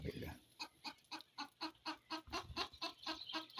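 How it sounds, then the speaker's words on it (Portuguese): A hen wanting to lay an egg clucks in a steady, repeated rhythm close by, on a rainy morning in the yard, with quiet background sound between the clucks. "A galinha tá querendo pôr"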